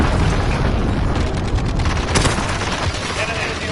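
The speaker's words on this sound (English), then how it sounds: "Allied cruise missile launched." Booming blasts and rumbling gunfire from a cruise missile launch and explosions in a video game, loud and continuous with a voice partly audible underneath.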